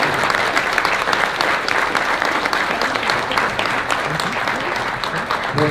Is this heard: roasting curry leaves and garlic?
no